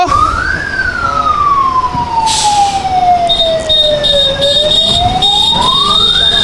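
A loud wailing ambulance siren rises and falls slowly amid a traffic jam on the Gandhi Setu bridge in Bihar, with a short horn-like blast and engine rumble around it.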